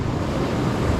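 Ocean swell around 1.5 meters breaks onto a beach shore, a brief, steady roar of surf with wind buffeting the microphone, and no voices.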